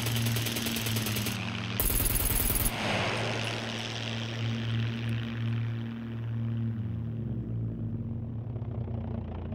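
Heavy automatic gunfire hammers continuously at a tower in the survival game Scum, a loud, relentless rattle over a steady engine drone, with a sharper burst early on before the firing fades.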